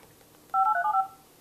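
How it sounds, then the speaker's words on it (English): A single clear telephone keypad dialing tone beeps from the dial pad of Skype on an iPad, a steady electronic tone about half a second long over faint background hiss. "up here in the top right corner, you can dial a phone number"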